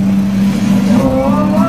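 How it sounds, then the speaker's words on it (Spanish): A classic Mercedes 190 SL convertible from the 1950s, shown at a historic vehicle rally on the Costa del Sol, passes close with a loud mid-pitched engine drone that rises slightly in pitch. "Es un Mercedes 190 SL"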